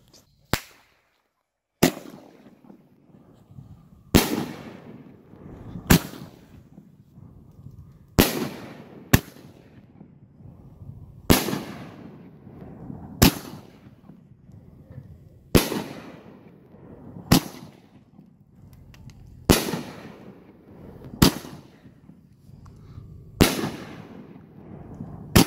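Fireworks, including a 3-inch shell, are set off outdoors. About a dozen sharp, loud bangs come at irregular intervals, each followed by a crackling, fading tail, with long quiet gaps between them.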